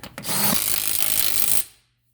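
A power tool runs the lug nuts onto the wheel of a 2011 Hyundai Genesis sedan with a 4.6 L V8, one continuous loud whirring buzz lasting about a second and a half before it stops, close up with no talk.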